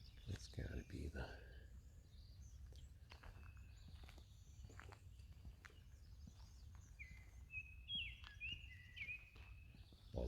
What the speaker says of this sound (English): That was the Baltimore oriole singing back over that way.